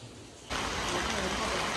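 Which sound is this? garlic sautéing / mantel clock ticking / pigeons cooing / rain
rain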